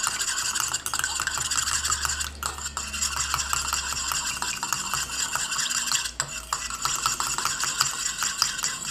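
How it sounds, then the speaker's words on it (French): A whisk stirs together two phases of a homemade blackcurrant makeup remover in a bowl, giving a continuous rapid scraping and clinking of metal against the container, close and steady with no talk. "on va mélanger les deux phases, les deux premières phases avec le fouet"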